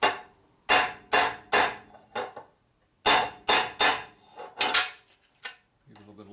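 Carburetor flanges from a 1942 Harley WLA Linkert M-88 being hammered flat on a table, a series of sharp metallic blows in quick groups of two to four with brief pauses, close and clear.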